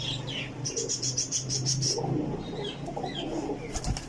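Pigeons cooing at a pigeon seller's, a sequence of soft, repeated low coos with faint chirps and a little wing flapping, close by, with no talk over them.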